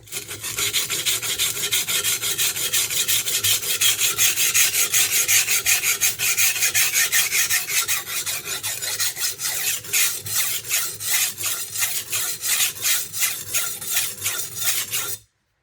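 Rapid back-and-forth strokes of a knife blade across a Norton Crystolon double-sided oilstone, a steady rasping scrape that turns into distinct, evenly spaced strokes, close and loud with no talking.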